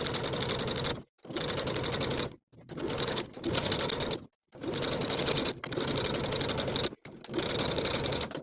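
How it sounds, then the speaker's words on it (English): A sewing machine top stitching a seam on a linen button-front shirt runs in several steady, close bursts of rapid needle chatter, separated by short silent pauses. "Top stitch along the bodice side of the garment, catching that seam allowance underneath with a 1/4 inch seam allowance."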